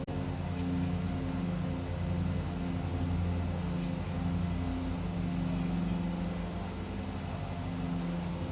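Aircraft engine drone in a flight simulator as the plane comes in to land on a short 2,900-foot runway, a steady, loud hum with tonal whine holding throughout.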